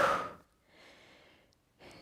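A trainer exhales forcefully during a strength workout: a sharp, loud breath out, then a softer drawn-out breath and a short final puff, close and without speech.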